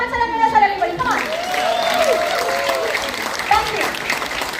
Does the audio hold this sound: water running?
no